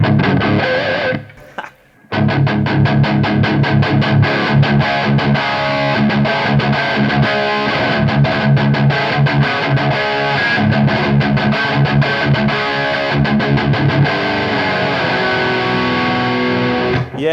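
Heavy distorted electric guitar chords from an SG fitted with Seymour Duncan Slash 3.0 Alnico 5 pickups, loud thick sustained strums with a brief pause near the start, then continuous rhythmic chording, no talking.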